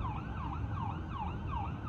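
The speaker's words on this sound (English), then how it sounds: "those are the sirens on the way to Dallas" Emergency vehicle sirens on the road toward Dallas wail in steady repeated rising-and-falling sweeps. They sound moderately distant and continuous over low traffic rumble, with no talking.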